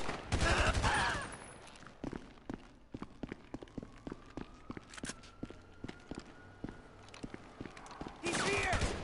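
Assault rifle fire in Grand Theft Auto 5, sharp shots in an uneven string through the middle of the clip with footsteps between them, and louder bursts of gunfire and talk at the start and end.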